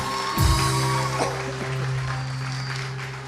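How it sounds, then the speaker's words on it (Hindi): Moderate applause greets a guest on a morning TV show, mixed with a studio music bed and a brief swoosh effect at the start, staying at an even level. "बहुत सारी तालियां मदिया"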